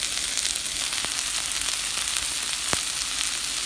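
Onions and garlic sizzling in a Le Creuset paella pan, a dense continuous hiss with occasional light ticks and pops, close and steady with no talking.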